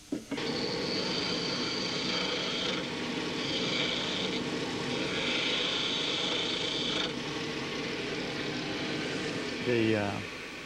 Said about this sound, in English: square pieces roughed out for front legs, are turned on the lathe